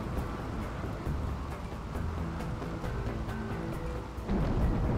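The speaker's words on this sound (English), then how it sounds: "Holy crap, they almost got struck by lightning." Thunder from a lightning strike in the game RimWorld rumbles low and heavy under steady rain, with a louder crack of thunder toward the end.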